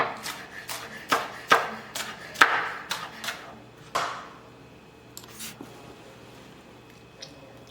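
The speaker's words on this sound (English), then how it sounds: "Rough chop." A knife rough-chops smoked salmon on a board, about eight sharp, evenly spaced thuds close up, then a few softer, sparser cuts trailing off.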